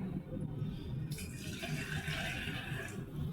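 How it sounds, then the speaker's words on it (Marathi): Hot water poured into a pot of dal and rice, a continuous splashing gush of liquid lasting a few seconds, close and moderately loud, no talking. "आता आपण यात घालणार आहोत गरम पाणी."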